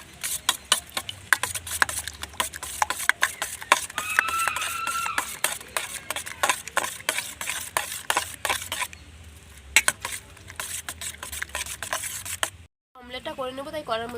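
A fork or whisk rapidly beats eggs with chopped onion, green chilli and salt in a bowl, producing a fast, steady run of sharp clicking taps that briefly pauses near the end, with a voice heard at the close.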